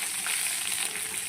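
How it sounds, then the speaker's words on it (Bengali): Onion and garlic sizzle in hot oil in a wok as an Indian-style tempering, a steady, close, bright crackling hiss that holds evenly for a moment with no voices. "দেখি পেঁয়াজ রসুনটা দিয়ে দিলাম ফোড়ন।"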